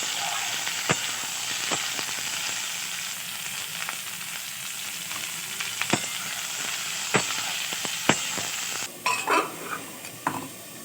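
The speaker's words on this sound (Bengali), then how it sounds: "এবার আমি আরেকটা কড়াইতে আলু আর যে সবজিগুলো কেটে রেখেছিলাম সেগুলো ভেজে নেব।" Potatoes and cut vegetables fry in a wok (kadai), a steady close sizzle broken by sharp scraping strokes of a stirring spatula and a few clanks near the end.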